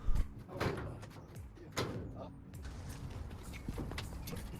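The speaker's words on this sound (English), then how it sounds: "the garage door is starting to come down" A residential garage door rolling down, a rumbling, rattling mechanical slide with creaks and a couple of louder knocks, steady and close for several seconds.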